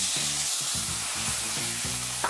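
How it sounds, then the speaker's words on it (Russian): Halva mixture frying with soft butter in a pan over low heat, giving a steady, close sizzle with soft stirring and a faint tonal hum running underneath. "Затем мы добавляем мягкое сливочное масло и продолжаем прожаривать так на сковородке на медленном огне."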